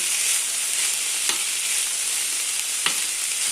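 Peppers, champignon mushrooms and canned corn sizzle steadily in a frying pan, a continuous close hiss with a couple of brief stirring scrapes.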